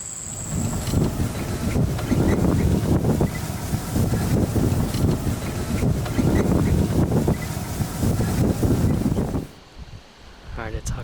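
Wind on a warm, gusty October day buffets the microphone with a continuous loud rumble and rustle for most of the stretch, then drops off abruptly near the end.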